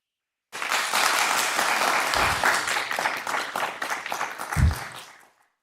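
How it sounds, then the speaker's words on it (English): Audience applause breaks out at a Lynn Haven city commission meeting, starting abruptly with brisk, dense clapping that thins out over a few seconds, a couple of louder thumps standing out before it fades away. "I ask that you would hold your applause"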